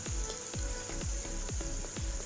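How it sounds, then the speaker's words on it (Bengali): Spice paste fries in oil for a masoor dal kofta curry, a steady high hiss of sizzling broken by regular dull thumps about every half second, like a spoon working the pan. "আমি 2-1 মিনিট ধরে মশলাটা তেলের পর একটু ভালো করে ভেজে নিচ্ছি"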